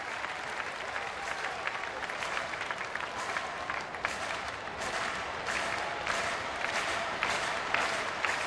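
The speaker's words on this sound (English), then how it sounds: "Another sellout crowd tonight." A sellout stadium crowd at a Pirates–Diamondbacks baseball game cheering and applauding, a loud, continuous roar and clapping that holds steady throughout.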